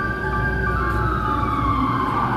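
A siren wails steadily over constant New York City street noise near Fifth Avenue, fairly loud and sustained throughout, with taxi and bus traffic rumbling underneath.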